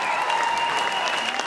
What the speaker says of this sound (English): Give him a big round of applause, ladies and gentlemen.